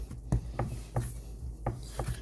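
Fresh pasta dough is worked by hand on a surface, giving a close, rhythmic series of soft thumps and presses, about five in two seconds, with no talking.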